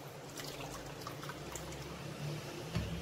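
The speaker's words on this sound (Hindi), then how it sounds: "6 कप अब हमने इसमें पानी डाल दिया" Water pours steadily into a pot with a continuous splashing trickle, filling it to make sugar syrup for Bengali rasgulla, heard close and alone without talk.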